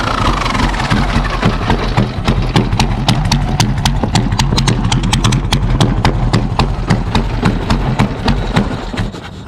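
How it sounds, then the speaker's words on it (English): A motorcycle with its exhaust baffles removed idles, sending out a fast, regular train of sharp popping exhaust pulses over a low rumble, close and fairly loud throughout. "It sounds so tight now because I took off the baffles, since this isn't like the daily bike."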